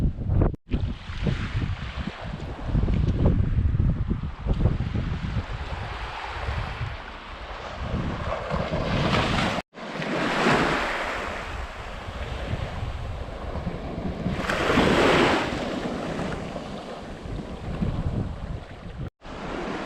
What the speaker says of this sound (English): Wind's definitely dropping off.